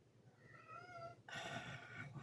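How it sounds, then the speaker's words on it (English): Several cats meow in a quiet indoor room, first one drawn-out meow and then a louder overlapping burst of meowing, close to the listener with no talk. "These cats make it very hard to concentrate"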